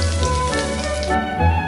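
Continuous crackling and sizzling of a breaded mozzarella corn dog deep frying in hot oil over medium heat, with a steady low hum underneath and no talking.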